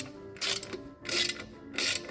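Ratchet wrench tightening the exhaust manifold bolts on a Jaguar XJ6, three close, loud bursts of rapid ratcheting clicks in an even back-and-forth rhythm.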